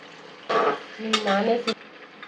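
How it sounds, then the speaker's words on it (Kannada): Vegetables with potato, cauliflower and paneer, cooked with ginger garlic paste for veg pulao, are stirred in a pan. A few short scraping and clattering strokes ride over a soft sizzle, close and fairly loud. "ಈಗ ಇದನ್ನ ಫ್ರೈ ಆಗೋವರೆಗೂ ಒಂದು ಸ್ವಲ್ಪ ಕೈ ಆಡಿಸ್ಬೇಕು."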